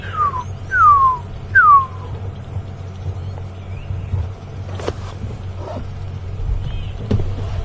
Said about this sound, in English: You can also hear a beautiful pearl-spotted owl.